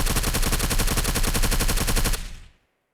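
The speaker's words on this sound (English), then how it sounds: "So let's shoot this MP7 again, full auto." An MP7 submachine gun fires a long, rapid full-auto burst in the zombie video game Surroundead, loud and evenly spaced shots for about two seconds before stopping abruptly with a short echoing tail.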